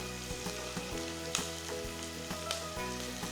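Chillies and onions sauté in a pan for a mutton stew, a steady close sizzle and crackle broken by regular soft scrapes and knocks of stirring, with no talking.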